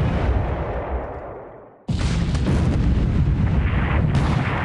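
Heavy cruiser naval guns firing in a war strategy game, a deep booming blast that rolls off and decays, then another loud sustained roar of gunfire and rumble cutting in abruptly, dense and continuous.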